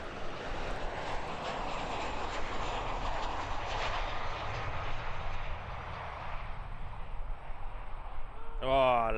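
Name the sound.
Qantas Boeing 737-800 landing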